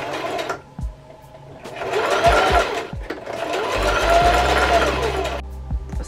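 Sewing machine stitching short hair tracks onto a pixie wig cap, running in loud, close bursts of rapid mechanical whirring with a brief pause between runs.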